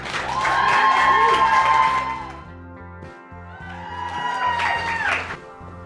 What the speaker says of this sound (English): Round of applause again for Mark.